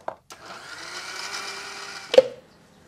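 An electric mixer grinder whirs steadily for around two seconds as it pulverises fried onion and garlic in a home kitchen, with a short clack at the start and a louder knock as it stops.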